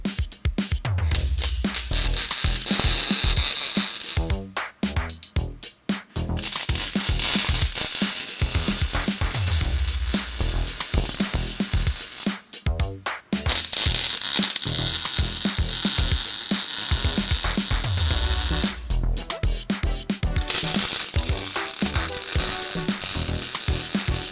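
Ratchet wrench clicking steadily as a simple bolt is fitted on a kart cross frame in a workshop, loud and close, in several long bursts of rapid pawl clicks separated by short pauses, with no talking.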